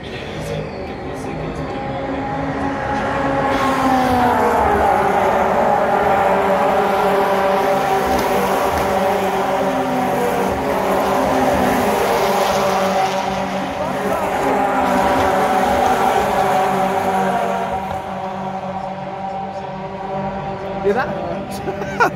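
Race cars drive loudly past at a motor racing event, a rising and falling engine roar building to a sustained drone and fading, with people talking nearby.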